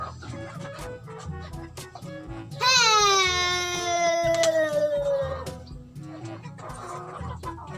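A red chicken clucks quietly amid faint background clatter, then lets out one drawn-out squawk that slowly falls away before the soft clucking resumes.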